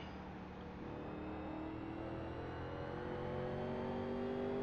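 A 1987 NASCAR stock car at full throttle in iRacing on the Milwaukee Mile, its engine droning loud and steady with a tone rising slowly as it gains speed, heard alone without talk.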